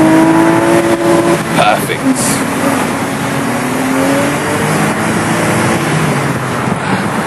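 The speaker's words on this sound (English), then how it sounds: "when you drop it down a gear or two and give it some revs, it sounds" A Porsche engine revs after a downshift, a loud droning tone rising and falling over road and wind noise. Someone speaks briefly over it.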